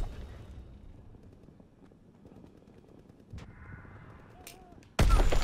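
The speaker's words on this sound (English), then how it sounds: "That nade landed right at the bottom of my feet" A grenade goes off in an online first-person shooter, a sudden loud, close blast that breaks in at the end after a stretch of muffled gameplay noise.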